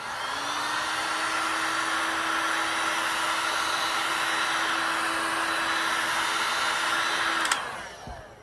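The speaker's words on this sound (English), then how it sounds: "I think we need the heat gun." Heat gun blowing hot air over a fluid art clock, a steady close whooshing hiss with a constant whine that runs unbroken before clicking off near the end.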